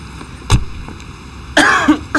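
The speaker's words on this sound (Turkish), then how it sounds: "Ne bu öksürük?" A person coughs several times in a TV drama scene, a sharp single cough followed by a harsher, raspy burst and a shorter final cough, close and loud.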